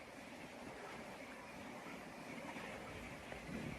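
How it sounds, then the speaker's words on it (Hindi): Howrah Rajdhani Express, an Indian Railways train, running on rails, heard as a steady, broad rumble and rattle of wheels and carriages that holds at a constant loud level throughout with no voices. "अब ये हावड़ा राजधानी लग रही है।"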